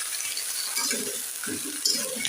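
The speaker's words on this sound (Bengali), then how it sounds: "তেলে পরে একটু ভেজে নিচ্ছে" Food frying in hot oil in a home kitchen, a steady soft sizzle with a few louder bursts as it is moved around, heard close up with no talking.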